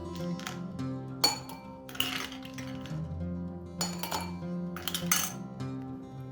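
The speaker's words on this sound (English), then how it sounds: "Add ice cube." Ice cubes clink into a glass while a sweet and salty lime mint soda is being made, several sharp, close chinks and rattles landing in uneven bursts with no talk.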